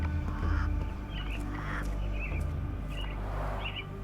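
Caged mynah birds give repeated squawking, chirping calls in the Sherlock Holmes: The Awakened game, several bursts spaced over a low ambient hum, moderately close with no talk.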